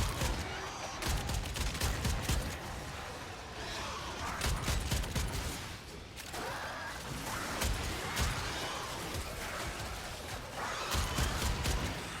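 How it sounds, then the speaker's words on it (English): Shotgun fire in the video game Warframe, with repeated loud blasts and bursts of gunfire over a dense, noisy battle soundscape lasting several seconds. "Even at this level, the shotgun that I'm running is still pretty powerful."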